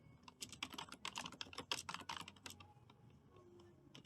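Fingers typing on a computer keyboard while entering terminal commands, a quick, close run of crisp irregular key clicks that then stops, leaving quiet room tone.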